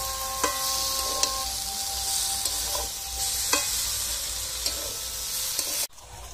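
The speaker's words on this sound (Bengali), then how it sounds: "এবার সব সবজি একসঙ্গে 1 মিনিটের মতো কষিয়ে নেব" Mixed vegetables with fenugreek seeds sautéed together in a pan: a steady, bright sizzle runs throughout, broken by a few sharp clicks from a stirring spoon, then cut off abruptly near the end.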